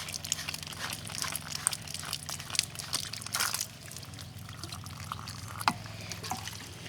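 Water trickling and dripping out of loosened pump hoses on an above-ground pool, with faint crinkling and small splashes in a steady low wash, quiet and close, no talking.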